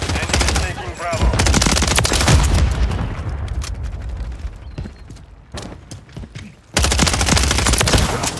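Loud, close Call of Duty Modern Warfare 3 multiplayer gunfire from an MTZ-556 rifle: sustained rapid bursts and shots, a brief lull with scattered shots, then heavy firing resumes.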